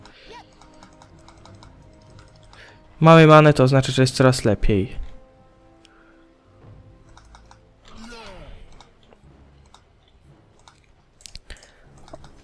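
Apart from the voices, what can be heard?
computer keyboard typing, pressing Enter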